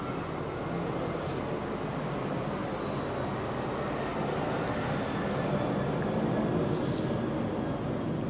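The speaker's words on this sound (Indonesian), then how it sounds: "Pesawat lewat ini tadi kan fakta yang tiba-tiba." Airplane passing overhead, a continuous broad engine roar that holds steady and swells slightly toward the end, filling the whole stretch with no speech.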